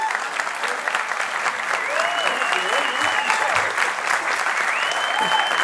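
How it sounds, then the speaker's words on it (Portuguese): Church congregation applauding during a Sunday celebration service, a steady wash of clapping from a large crowd with some voices and a few cheers mixed in, continuous and fairly loud throughout. "Você pode aplaudir a Senhor pela vida dela"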